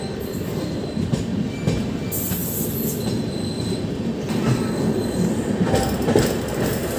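Inside the moving special train 03423 from Bhagalpur to Haridwar between Lucknow and Bareilly, wheels rumble and squeal steadily over the rails with a faint clickety-clack and occasional sharp metallic screeches.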